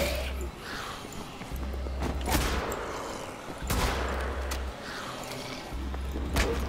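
Loud shotgun blasts in the video game Wolfenstein: The Old Blood, several sharp shots spaced a second or two apart over a steady background of game ambience and low music.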